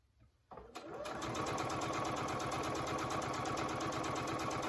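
A sewing machine stitches a chevron quilt seam at medium speed, starting after a brief quiet moment and then running as a close, steady, rapid mechanical whir of needle strokes.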